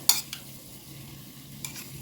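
Soft sizzling of blender-pureed onion frying in a pan with a few scraping stirs near the start and end, steady and close.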